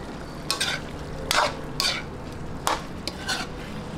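Chicken cubes sautéing in a pan for lomi, a soft steady sizzle broken by loud clattering stirs of a utensil against the pan, no talking.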